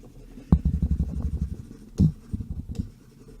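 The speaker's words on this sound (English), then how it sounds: "If you're wondering what that scratching sound is it's actually my tablet I use" A stylus scratching across a drawing tablet during a Photoshop session, close rapid rhythmic scraping strokes in two bursts with a short pause between.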